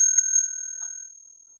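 A struck 50-cent coin pings once with a thin, high-pitched ring that fades out over about a second and a half, heard alone and close.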